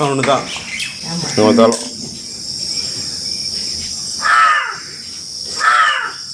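A few harsh crow caws ring out in separate bursts over a steady high insect drone, with brief stretches of quieter background between calls.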